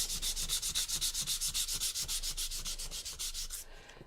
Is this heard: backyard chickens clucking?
no